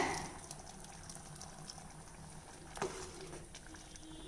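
A pot of kadala curry bubbles and simmers quietly, with soft gurgling pops and a low steady wash of liquid noise, one slightly louder splash midway.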